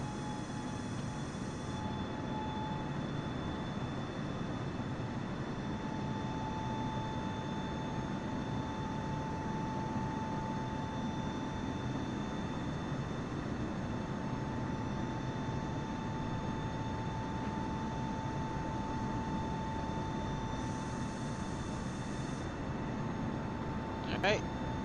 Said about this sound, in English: Alright, V1, rotate. Nice, sounds like you're lifting off smoothly.